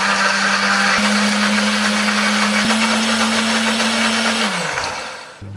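An electric blender grinds pepper, coriander, turmeric, shallots and garlic with a little water, a loud continuous whir with a steady motor tone that winds down near the end.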